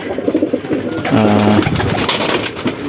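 Pigeons coo close by, a loud low throaty coo rising in the middle of the clip amid softer bird sounds and rustling, with no talk.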